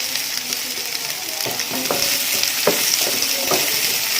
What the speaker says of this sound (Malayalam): ഞാൻ ഒരു ഫ്രൈ പാൻ വെച്ചിട്ടുണ്ട്, അതിലോട്ട് ഇഞ്ചി വെളുത്തുള്ളി ക്രഷ് ചെയ്തെടുത്തത് അറിയാം